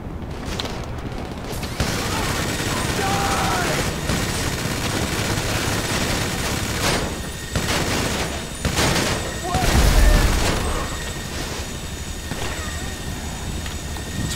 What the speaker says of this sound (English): Let's watch those explosions around the equipment.